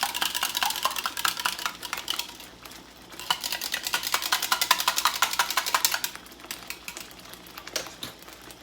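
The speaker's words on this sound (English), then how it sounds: "I'm going to get my little whisk. Make sure I get all the little lumps out with the flour." A small whisk clatters rapidly against a pot while flour is stirred into tomato gravy to break up lumps, a steady run of quick metallic scraping and ticking that pauses briefly around the middle, close and fairly loud.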